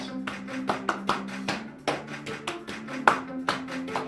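Hands clap along to a children's song, sharp claps landing in an uneven beat over a steady sung melody and backing music, loud and close.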